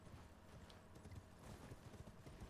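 Horse hooves in the video game Elden Ring, a quiet, rapid clip-clop running steadily through the whole stretch, with soft background ambience.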